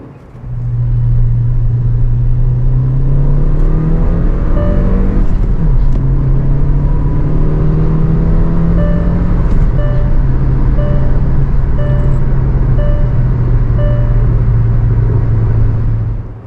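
A tuned Hyundai Verna 1.5 turbo manual car engine pulls hard through a low gear, a steady droning tone rising and holding for many seconds, loud and close.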